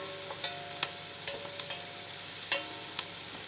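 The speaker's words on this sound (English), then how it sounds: "We'll stir this around and let that garlic cook for a couple of minutes." Garlic sizzles quietly in a pan while being stirred, with soft steady frying noise and a few sharp spoon-and-pan clinks scattered through.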